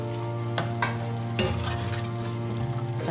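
Mutton with tomatoes stirred in a pan for Madurai mutton chukka, a steady close sizzle with a couple of sharp spatula scrapes against the metal.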